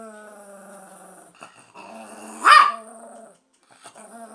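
A dog barks and growls eagerly over a toy car, one sharp loud bark rising out of a low, grumbling growl at close range, with quieter rumbling before and after.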